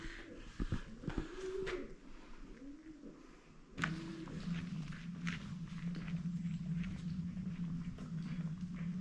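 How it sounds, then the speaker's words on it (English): Pigeons coo close by in low, rolling, repeated phrases, mixed with fluttering wing flaps and shuffling footsteps, then settle into a steadier cooing drone. "pigeons cooing."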